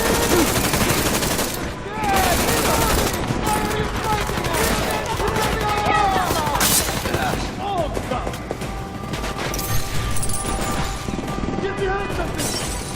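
Heavy gunfire in the video game Deus Ex: Mankind Divided, dense overlapping bursts and automatic fire with crashes and impacts, loud and continuous, with voices shouting over the battle.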